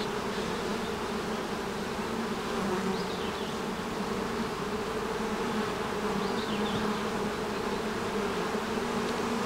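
Honey bees buzz around an opened beehive, a steady, dense drone of many wings that stays close and continuous throughout with no talking.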